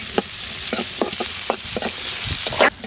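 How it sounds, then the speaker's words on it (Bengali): Onions frying in oil in a wok that was used for frying pomfret, for a fish dopiaza. A close, steady sizzle is broken by repeated scraping stirs, with no talking. "পেঁয়াজটা ভেজে নিলাম।"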